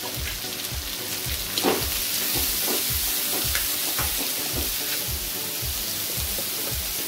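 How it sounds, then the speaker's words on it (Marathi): Onions frying in a pan for a raw jackfruit vegetable dish, a close steady sizzle crackling like light rain, with rhythmic stirring scrapes throughout and no talk. "मीठ टाकल्याने कांदा लवकर फ्राय होतो"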